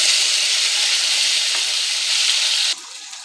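Cashews and raisins sizzle steadily in hot oil with grated ginger and asafoetida, a dense, loud frying hiss that drops abruptly to a quieter sizzle near the end.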